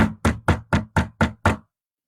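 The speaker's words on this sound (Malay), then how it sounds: "Ketuk pintu." A visitor knocks on a door at night during rain, heard as seven sharp, evenly spaced knocks in quick succession, close and loud, with nothing else around them.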